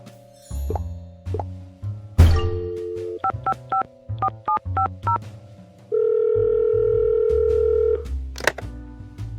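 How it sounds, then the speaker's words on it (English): Electronic phone keypad tones in a Nancy Drew video game beep one after another in a quick series, then a long steady tone, with soft clicks and a plop, all synthetic-sounding. "Maybe I should try out this phone number."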